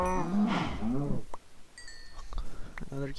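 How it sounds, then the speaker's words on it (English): A cow in the video game Minecraft gives a loud, drawn-out moo over the first second, followed by sparse game clicks and a shorter low call near the end. "Oh, there's a bunch of cows."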